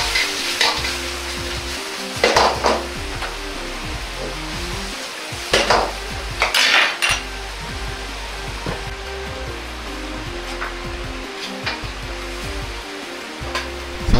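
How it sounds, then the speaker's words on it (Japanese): Fried chicken stirred into a thickened lemon sauce in a pan, with steady sizzling and repeated scraping, clattering strokes of a utensil against the pan at irregular intervals. "揚げた鶏肉と合わせていきます。"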